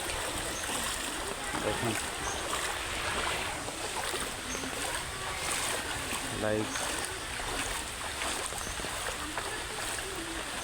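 Floodwater after heavy rain rushes and splashes in a steady broadband wash that runs the whole time, with someone talking over it.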